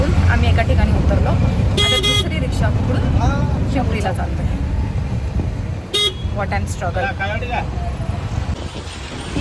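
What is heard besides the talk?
auto rickshaw ride in street traffic with horns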